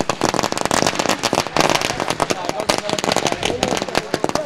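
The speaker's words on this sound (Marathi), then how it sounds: "फटाक्यांच्या आतषबाजीत आपण या ठिकाणी" Dense string of firecrackers bursting at a village cricket tournament final, a loud, rapid, continuous crackle of sharp pops with a voice talking under the racket.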